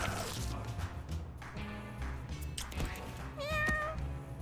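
A cartoonish cat in the video game Mewgenics gives a single rising meow near the end, over game music and thumping sound effects, with a voice talking earlier.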